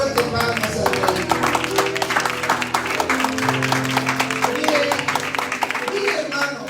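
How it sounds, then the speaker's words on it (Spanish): A church congregation claps loudly and steadily for the King, a dense rhythmic wave of hand claps close by, with voices mixed in throughout. "Oh, dele fuerte palmas al Rey."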